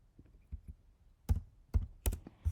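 Typing on a computer keyboard while coding in Python, a few separate key clicks followed by several sharper, louder keystrokes, close and with no talking.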